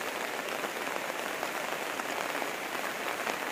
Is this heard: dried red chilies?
no